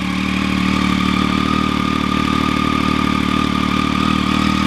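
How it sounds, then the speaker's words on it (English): A Triumph Street Triple's three-cylinder engine with Arrow exhausts runs steadily near the microphone, a loud, even drone with a whistling whine layered over the rumble and no talk. "you can probably hear that traditional 3-cylinder whistle that you get from all Triumph triples"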